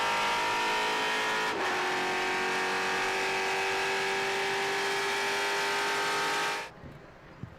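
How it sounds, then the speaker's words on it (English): On-board race car engine at Virginia International Raceway, a loud sustained high-pitched drone at steady speed that cuts off abruptly near the end. "On board with Andretti"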